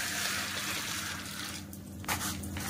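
Water pours steadily onto puffed rice in a kitchen bowl, a continuous close splashing hiss that breaks off briefly near the end before a short final trickle.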